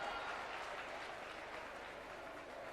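An audience applauds at a political speech by the Rajasthan Chief Minister in Jaipur, a steady, even wash of many hands clapping, distant and faint, with no talk.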